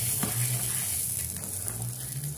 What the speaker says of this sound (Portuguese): E já vou estar cozinhando esse arroz aqui.